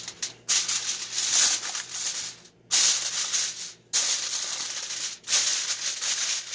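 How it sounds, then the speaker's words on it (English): Aluminum foil gets crinkled and pressed over a baking dish of beef tips and gravy in bursts of rustling and scraping, with short pauses between, close and fairly quiet. "I am going to go ahead and cover this with aluminum foil"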